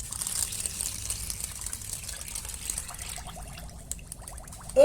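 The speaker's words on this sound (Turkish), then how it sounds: "Suyumuzu ekliyoruz." Water pours onto sugar in a pot to start a syrup for baklava, a soft continuous trickle close by with a brief louder splash at the very end.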